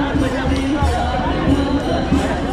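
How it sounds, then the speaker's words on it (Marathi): A large, dense crowd at the Jagannath Rath Yatra procession in Pune, where the chariot is being pulled: a continuous loud roar of many voices with irregular thumps and shouts, heard from within the throng. "खूप गर्दी आहे भाई, खूप अति गर्दी"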